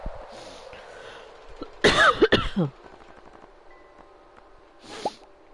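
A single close, harsh cough from allergies bursts out with a throat-clearing rasp, surrounded by quiet room noise and a faint murmur afterward.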